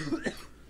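A single short cough from a character in a Serbian horror video game, close and fairly soft, one or two quick bursts with a rough throaty edge.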